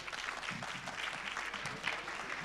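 A congregational meeting breaks into applause: a short, steady patter of many hands clapping, moderately distant and fairly quiet, with no talk over it.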